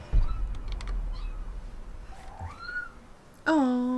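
A cat gives a drawn-out meow in Tomb Raider, then another cat lets out a loud, close meow at the end, with quiet room noise and faint rustling between.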